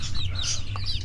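Brief, close hen clucking and squawking over a low background rumble, lasting about a second.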